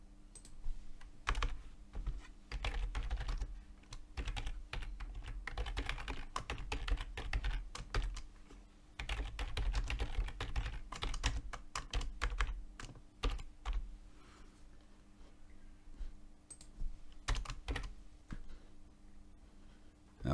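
Rapid, uneven keystrokes clatter on a computer keyboard as code for a breakout trading program is typed. Steady, close clicking runs throughout with brief pauses and no talking.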